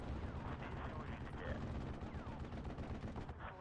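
Artillery fire in the Steel Division 2 video game makes a dense, continuous rumble of explosions and gunfire. It is steady and loud throughout, with no pause in the barrage.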